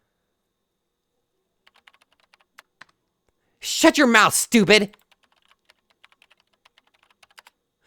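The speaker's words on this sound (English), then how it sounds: "she began typing on the keyboard with an angry expression" Computer keyboard typing from the visual novel Chaos;Head Noah: scattered sharp key clicks, sparse at first and then quickening, with a burst of shouted speech in the middle.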